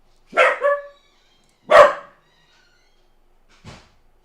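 Three barks from a dog indoors, the first a double bark, the second a single loud one and the last a fainter bark a couple of seconds later, heard alone and fairly close.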